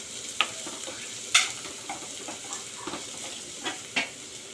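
A spoon stirring an egg and tamarind-leaf curry seasoned with salt and turmeric, giving a faint frying sizzle broken by a handful of soft scrapes and clinks at irregular intervals, close by with no talk.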